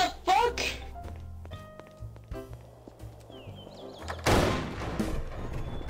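Gunfire in the Garry's Mod video game, several sharp shots and thunks scattered through the clip with a loud burst near the end, set against game music and background noise.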